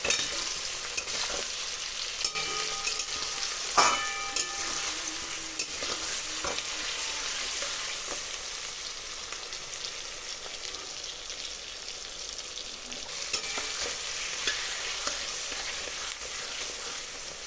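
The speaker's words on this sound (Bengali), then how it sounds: "তো এর সঙ্গে আলুটা দিয়ে দেবো যাতে ফ্রাই হয়ে যায় একটু।" Potatoes and onions frying together in a pan, a steady bright sizzle with occasional scraping stirs, close and continuous with no talk.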